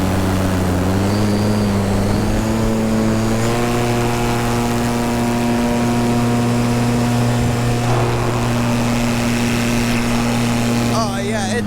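An electric paramotor propeller whines at full throttle, a loud, steady, close drone with a rising pitch early on and constant harmonics, while a voice talks over it.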